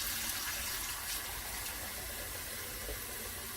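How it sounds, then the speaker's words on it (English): A Moen smart pulldown kitchen faucet runs hot water steadily, a constant close hiss of flowing water with no voices. "Running kitchen faucet to hottest temperature."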